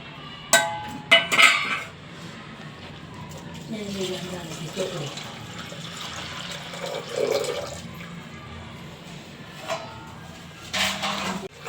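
Water splashes and pours into a metal pot with two tomatoes for cooking barnyard millet, amid clattering of utensils, with brief clanks and a person talking in the background.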